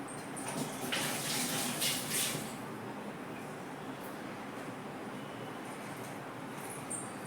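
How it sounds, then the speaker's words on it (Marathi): Tap water runs while hands are washed, a steady broadband hiss with a brighter splashing burst early on that then settles into a continuous even flow, close and moderately quiet, with no talking. "मी पहिले काय करते हात धुवून घेते"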